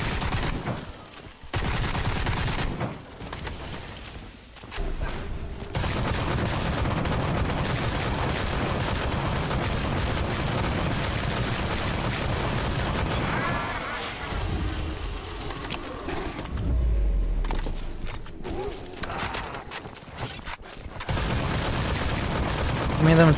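Light machine gun firing in the video game Sker Ritual, long sustained bursts of rapid automatic fire with brief gaps, loud and close, with mechanical clatter near the end.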